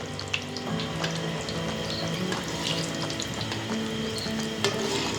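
Homemade chicken nuggets fry in hot oil, giving a dense, continuous crackling sizzle with scattered pops, steady and close throughout.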